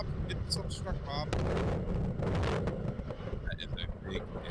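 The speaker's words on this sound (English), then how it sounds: "That is a big ass explosion." A big video game explosion roars as a deep, sustained rumble that swells into a loud broadband blast midway, then trails off into lower crackling noise.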